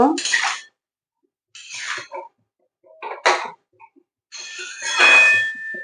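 A metal spoon stirring and scraping vegetables (bottle gourd greens) in a cooking pan on a gas stove, four separate clinking scrapes with short silent gaps between them, close and clear.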